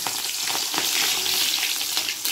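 Green chillies sizzle and crackle in very hot cooking oil in a home kitchen, a dense, steady close-up frying hiss with occasional spatters and no talk.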